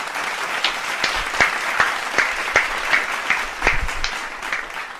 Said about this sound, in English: I want everybody to give a round of applause for this idea